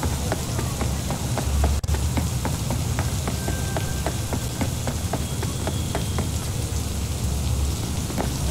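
Rainfall in the video game Cyberpunk 2077 keeps a constant hiss, with a series of small clicking drops or ticks regularly spaced over the steady downpour.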